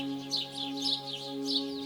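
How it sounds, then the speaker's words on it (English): Birds chirp and tweet in short bright calls repeating through a calm nature soundscape, set over a steady low tonal drone, moderately faint. "The sound of birds singing is also a great way to relax and connect with nature."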